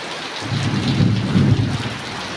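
Heavy rain falling steadily with a deep roll of thunder, close and loud, with a broad wash of rain and a low rumble swelling in the middle, with no voices.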